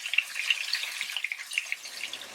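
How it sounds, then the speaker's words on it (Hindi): Thick-cut onions fry in a pan for dhaba-style masala bhindi, giving a steady, soft sizzle with light crackling pops throughout and no voices. "इसको फ्राई हो जाने दें, यानी कि थोड़ा सा नरम हो जाएगी प्याज"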